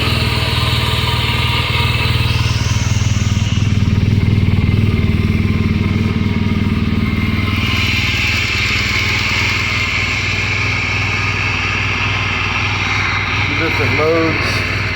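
A 2015 BMW R1200GS boxer-twin motorcycle cold starts and settles into a loud, steady idle close by, with the revs stepping down partway through while someone speaks over the running engine.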